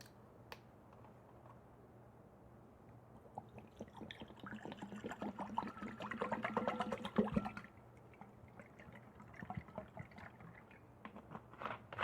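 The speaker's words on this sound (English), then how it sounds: "you want to fill up the bowl right here with vinegar" White vinegar poured into a bowl gives a soft, trickling splash that builds in the middle and then tapers off. Scattered small taps and drips follow it, all faint and close by.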